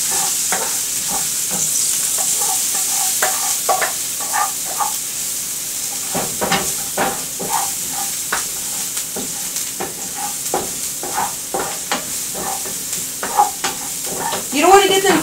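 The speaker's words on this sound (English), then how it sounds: "you want to kind of saute them a little bit. So just get them like a brown" Chopped onion sautéing in a pan while pork chops are being cooked: a steady close sizzle and hiss, broken by repeated scraping and clacking as the pan is stirred.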